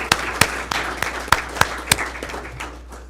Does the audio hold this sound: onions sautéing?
no